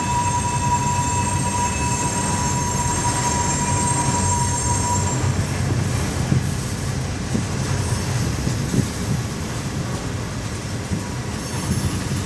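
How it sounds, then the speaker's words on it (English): A long, heavy CSX freight train with six engines rumbles steadily past at close range, wheels squealing high and cars clattering over the rails in a continuous loud roar. "That's a long, heavy train."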